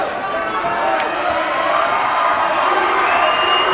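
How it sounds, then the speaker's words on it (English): The crowd at a varsity high school ice hockey game between North Rockland and Mamaroneck cheers and shouts in a steady, loud, dense roar that lasts throughout. "the crowd is more into it."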